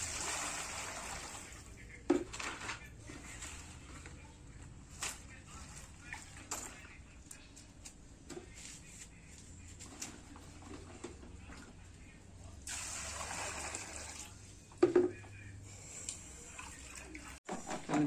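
Fodshi vegetable leaves are swished and rinsed in water, with intermittent close splashes and trickles and a few sharp knocks, while people talk at times.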